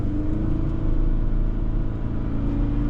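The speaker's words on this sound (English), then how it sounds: "it's not going to set fires going down the road with this naturally aspirated flat 4, but it gets the vehicle up to speed all right" A 2025 Subaru Crosstrek Premium with a naturally aspirated flat-four engine accelerates away, its low, steady engine rumble and road noise holding at a close, even level without talk.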